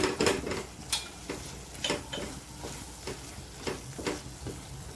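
A spoon pressing and mashing soft cooked tomatoes in a pan for tomato pulao, giving repeated soft clinks and squelchy taps against the metal at an irregular rhythm over a low background sizzle, close and fairly quiet.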